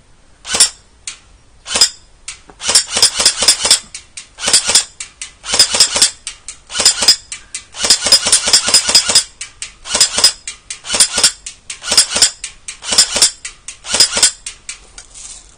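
Sharp, snappy shots from a G&G Armament RK47 blowback airsoft rifle firing semi-automatic, one after another in quick single pulls, sometimes in short bursts, loud and close with brief pauses between.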